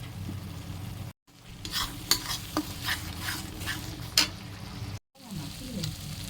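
A spatula stirs masala with tomato paste and a little kasuri methi as it fries in a pan, giving a soft steady sizzle broken by scraping strokes and a couple of sharp clinks, with two brief silent cuts.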